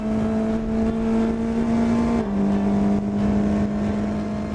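Formula 4 race car of 185 horsepower on slick tyres lapping a circuit, a steady high engine drone that drops in pitch midway like an upshift, continuous and fairly close.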